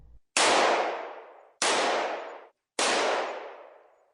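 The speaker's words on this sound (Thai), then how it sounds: "ต่อมาเสียงปืนที่รุนแรงสามครั้งก็ดังขึ้น" Three loud gunshots, evenly spaced about a second apart, each a sharp crack followed by a ringing decay.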